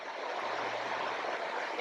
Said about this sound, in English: we're here at the river Amable du Fawn